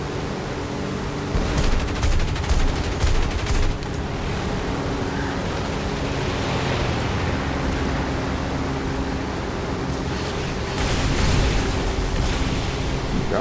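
Aircraft guns fire during War Thunder air combat, heard as rough, rumbling bursts of rapid fire over a constant roar of engine and wind noise. The firing grows louder in two stretches.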